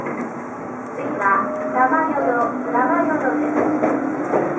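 Tobu 50090 series electric train running on the line near Yorii, a steady rolling rumble with rhythmic wheel clacks while an onboard announcement plays over it.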